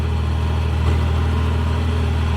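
A tractor engine runs steadily as it drives across farmland, a close, continuous low-pitched rumble with a brief slight surge partway through.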